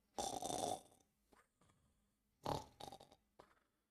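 A person imitates snoring: two rasping, throaty snores, each trailing into softer breathy snorts, close and fairly loud with no speech.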